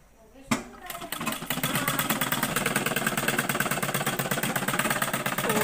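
A sewing machine stitches a sleeve hem. After a brief start it runs in a fast, steady, close mechanical whirr with a rapid rhythmic needle clatter that carries on to the end.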